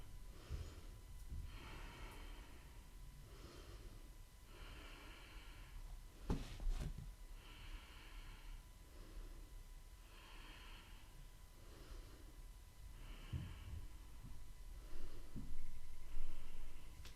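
Slow, deep breaths during a warrior pose in a hot vinyasa yoga class, rhythmic inhales and exhales repeating about every two seconds, close and audible with some louder nasal exhales, no talking.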